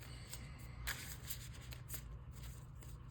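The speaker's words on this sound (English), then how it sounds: "We shuffling the cards." Digimon trading cards being shuffled by hand, a steady run of crisp riffling and flicking with several sharper snaps, heard up close over a constant low background hum.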